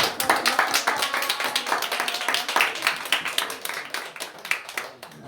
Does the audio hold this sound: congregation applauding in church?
yes